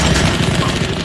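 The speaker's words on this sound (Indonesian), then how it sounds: "si target malah langsung memberondong dengan tembakan" Dense, continuous burst of machine gun fire from an action film shootout, loud and unbroken across a very short stretch with rapid, overlapping shots.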